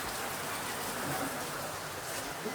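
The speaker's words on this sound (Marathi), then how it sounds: "आणि आता पाऊस आलाय बघा, फुल पाऊस झालेला आहे" Heavy rain pours down steadily, a dense, even hiss of drops on surfaces heard nearby during a road trip in the Sikkim hills, with no break in the sound.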